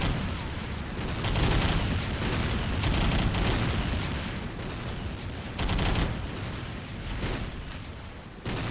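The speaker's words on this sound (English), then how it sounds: "you'll have to take out a certain number of enemies with this machine gun" Rapid machine gun fire in a trench-warfare video game mission, with dense, continuous bursts and booming reports filling the whole stretch loudly, briefly easing before resuming.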